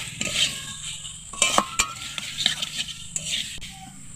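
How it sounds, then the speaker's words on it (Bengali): Pre-fried shrimp is stirred into potatoes and figs in a pan with a metal spoon, making close clinks and scrapes against the pan over a light sizzle, with no talking. "সেই মাছটা দিয়ে হালকা হাতে একটু নেড়ে চেড়ে নেবো"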